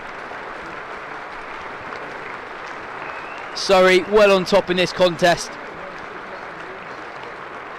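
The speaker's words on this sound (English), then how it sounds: "really appreciative round of applause there for the Surrey captain" Members in the pavilion at a Surrey v Lancashire County Championship cricket match stand and applaud Surrey captain Rory Burns: steady, distant-sounding clapping runs throughout, with a commentator speaking briefly over it in the middle.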